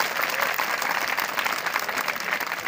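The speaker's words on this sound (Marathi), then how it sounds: "खरं तर सगळ्या मुलांनी एकदा शिक्षकांसाठी जोरदार टाळ्या वाजवायच्या" Schoolchildren applaud loudly for their teachers at a school annual gathering, a steady wash of many hands clapping together without pause.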